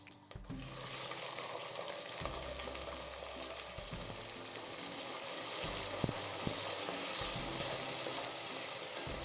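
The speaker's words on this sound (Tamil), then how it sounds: "வெங்காயம் நல்லா பொன்னிறமாக வரணும். அது வரையும் நல்லா வதக்கணும்." Onions sizzle in oil for mutton biryani, a dense continuous frying hiss with occasional pops and stirring knocks, steady and close.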